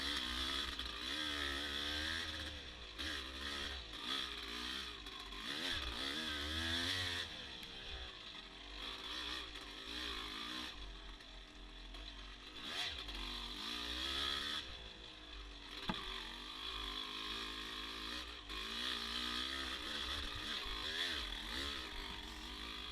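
Dirt bike racing a hare scramble on a side-hill section of a wooded track, engine droning loudly and steadily throughout with pitch rising and falling as the rider works the throttle, close and continuous with no talk.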